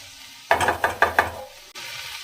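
Drumstick leaves frying in a pan are stirred, giving four quick scraping, clattering strokes of a utensil against the pan, close and fairly loud, then a soft sizzle and a brief clunk.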